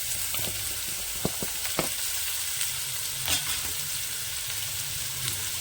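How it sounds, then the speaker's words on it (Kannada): Onions and green chillies fry in a pan for a paneer dish, giving a loud, steady sizzle with a few sharp clicks of a spatula against the pan. "ನೋಡಿ, ಇವಾಗ ಈರುಳ್ಳಿ ಹಾಕೋತಾ ಇದ್ದಾರೆ."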